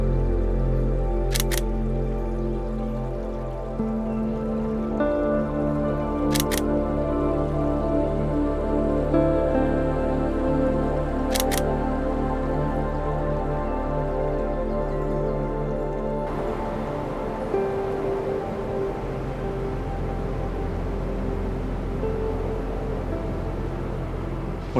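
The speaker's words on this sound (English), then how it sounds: "Well, it's raining." Steady rain falls in a forest in Snowdonia, a continuous broadband patter with a few sharp camera-like clicks early on, recorded close and fairly loud with no talking.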